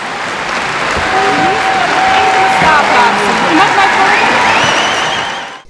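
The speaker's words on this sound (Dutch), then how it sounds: "Bij binnenkomst in de hal werd de koningin met een warm applaus begroet" Warm, sustained applause fills a large hall as the Queen enters a horse-breeding society jubilee show, steady and dense from start to finish before fading out at the end.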